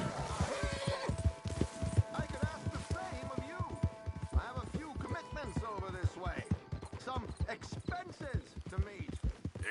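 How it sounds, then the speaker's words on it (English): A horse whinnies loudly while hooves clop in a steady, busy rhythm nearby, with people talking over the sounds. "Control your horse."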